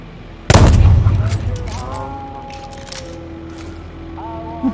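A sudden loud explosion bursts in the video game Deathloop, followed by sharp gunfire cracks and decaying ringing tones, with fainter shots and whistles trailing off.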